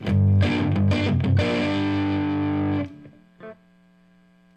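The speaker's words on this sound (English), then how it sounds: "Changed to a different British setting and I added more gain." An electric guitar with P90 pickups plays through a Fender Champion 40 amp on a British distortion setting with the gain turned up. A loud, saturated chord rings out and sustains, then cuts off, followed by a quieter short strum.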